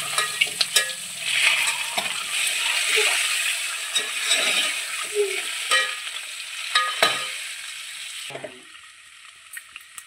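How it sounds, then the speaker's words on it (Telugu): Boiled eggs stirred with turmeric and chili powder in a hot pan, giving continuous sizzling and frying with repeated scraping and clinking of the spoon against the pan, close and fairly loud, with no talk. "ఒకసారి కలుపుకోవాలి।"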